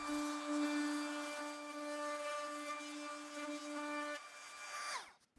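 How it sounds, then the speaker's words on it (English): A router with a chamfer bit runs along the sharp edges of a workbench built from construction-grade lumber: a steady, high, tonal whine that holds for about four seconds, then winds down as the motor stops. "started routing all the sharp edges with a chamfer bit"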